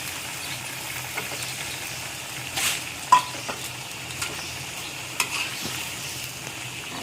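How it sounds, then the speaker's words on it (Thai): Young chilies and eggplant going into a simmering Thai curry of catfish with pickled bamboo shoots: a steady bubbling sizzle with light scrapes and a couple of sharp clinks from the pot. "ใส่พริกอ่อน ใส่มะเขือลงไปเลย"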